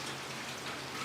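Steady rain falls outside a garage, a dense, even hiss of drops with no breaks, close and continuous.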